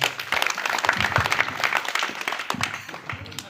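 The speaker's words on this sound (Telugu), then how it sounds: "ఒకసారి గట్టిగా చప్పట్లు కొట్టండి" An audience at a road-safety and helmet-awareness talk claps and applauds in a dense burst that fades toward the end, with voices mixed in.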